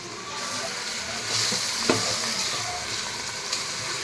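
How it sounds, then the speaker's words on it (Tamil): Country chicken curry masala sautés in hot oil in a village-style kitchen, giving a close, continuous sizzle and crackle with a few sharp scraping stirs of the pan. "வதக்கிடணும் எண்ணெயில் நல்லா."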